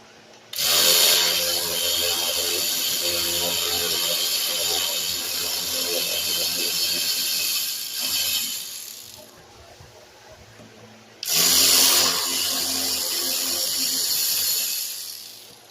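Power tool driving out 7mm screws from a panel on a 2001–2007 Ford Escape during radiator replacement, two loud sustained whirring bursts close by with a short pause between, no talk.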